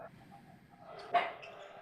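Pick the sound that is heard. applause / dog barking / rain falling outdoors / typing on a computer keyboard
dog barking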